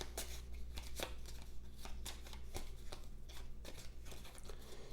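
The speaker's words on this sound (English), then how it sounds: "So you pull out the 6, set it aside for now, and then shuffle the rest of the cards." Playing cards for a solo Frostgrave tabletop campaign are shuffled up close, a rapid run of crisp riffling flutters and soft slaps repeating throughout, with no one talking.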